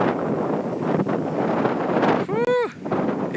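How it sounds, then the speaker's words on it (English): Strong wind buffets a microphone outdoors beside a massive building in a park in Tachikawa, West Tokyo, a continuous loud rumbling roar lasting throughout with one brief dropout near the end. "It is windy today."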